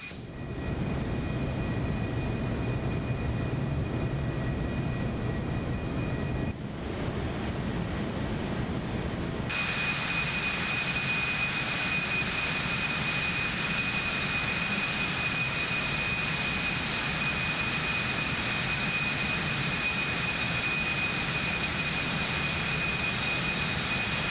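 Simulated Cessna Citation X business jet engines in the X-Plane 12 flight simulator hold a steady, loud whine and roar throughout, with the tone shifting and brightening partway through as throttle increases.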